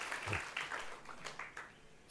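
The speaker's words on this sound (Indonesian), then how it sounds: "Kasih tepuk tangan buat Tuhan Yesus." A church congregation claps during a worship service, a soft, scattered patter of hands that sounds somewhat distant and thin, with a few sharper claps near the end.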